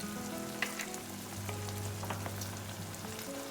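Pesto pasta sauce with Philadelphia cream cheese sizzling and simmering in a pan while it is stirred, a steady close-up frying crackle with small scraping taps throughout and no talking.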